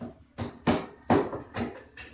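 Sharp hammer blows strike a shipped online package to break it open, five loud knocks at an uneven pace, each ringing briefly with a hard clattering edge.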